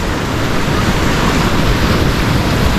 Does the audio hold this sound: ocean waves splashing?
yes